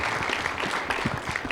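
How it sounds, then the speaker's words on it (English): An audience applauds a school choir at a high school honor society ceremony, producing a brief, dense wash of clapping that stays steady and fairly loud throughout. "how about a round of applause for our choir?"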